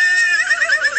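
A horse whinnies in a barnyard at breakfast time, a single loud, close neigh with a wavering, descending pitch lasting about a second, heard alone on a Cinderella story record.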